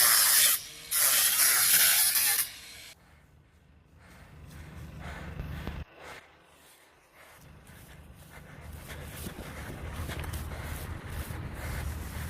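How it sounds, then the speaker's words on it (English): Spray paint bursts out in a loud hiss on private jets at a private airfield, cutting off abruptly, followed by quieter rustling, handling noises and outdoor background. "Before the two were arrested for spray painting the private jets"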